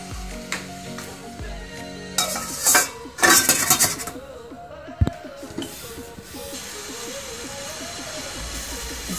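Rava halwa sizzles and hisses steadily in a pan, with scraping spoon stirs and a couple of louder metallic clatters partway through.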